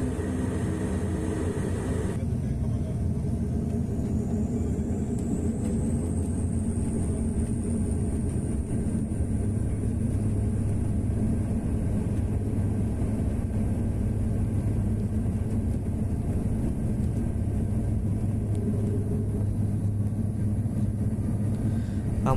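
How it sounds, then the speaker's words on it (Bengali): A passenger airplane taking off from Dhaka bound for Kolkata gives a loud, steady engine roar from inside the cabin, with a turbine whine that climbs in pitch as it gathers speed. "আমাদের বিমানটি এখনই টেক অফ করছে"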